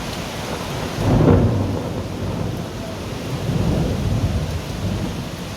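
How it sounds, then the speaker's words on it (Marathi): Heavy monsoon rain pours steadily while deep rolls of thunder swell twice, one near the start and a softer one later, loud and close with no talking. "पावसाचा जोर अजून आहे"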